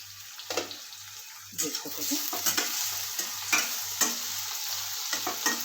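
Stuffed okra (bharela bhindi) cooks under a lid in a pan, giving a steady close sizzle with faint scraping of stirring and a low periodic hum behind it.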